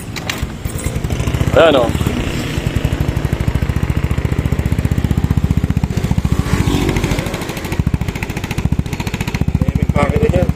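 A Yamaha Mio scooter engine starts and settles into a close, loud, steady putter with rapid regular firing pulses; a person speaks briefly over it.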